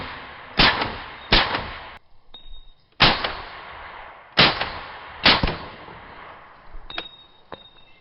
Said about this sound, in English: it's probably wise to wear hearing protection just because of the crack of the sound barrier